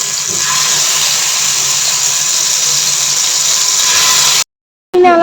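Paneer tikka pieces sizzling on a hot griddle give a loud, continuous close-up hiss that cuts off abruptly near the end before a short burst of other sound.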